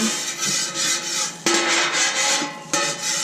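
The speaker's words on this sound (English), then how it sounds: "And you just want to take your oil and rub it around." Oil being rubbed around a flat griddle surface set on low heat, a steady close scraping and wiping rasp that swells and fades in repeated strokes with two sharper knocks, no voices.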